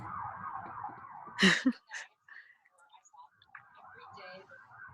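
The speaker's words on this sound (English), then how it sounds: "the sirens." A distant siren wails faintly in the background, followed by a sharp clatter and some quiet, scattered sounds.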